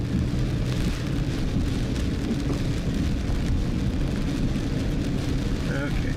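Steady, loud rain drums on a vehicle windshield during a morning storm in Oklahoma, a dense continuous wash of drops with low rumble underneath throughout.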